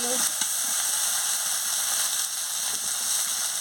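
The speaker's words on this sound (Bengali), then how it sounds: "ভালো করে মশলাটাকে কষিয়ে নিচ্ছি" Ground chilli, cumin and turmeric sizzling in hot oil in a pan during a Bengali potato, pointed gourd and paneer dish, a steady close hiss with no break throughout.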